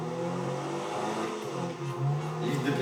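A car driven in the Need for Speed racing game, its engine a steady hum that rises and revs, heard alone without talk.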